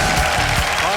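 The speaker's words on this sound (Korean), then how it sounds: "박수 보내세요" Studio audience of reserve and active air force officers clapping on a Korean military-themed TV show, a brief, dense burst of applause at full volume.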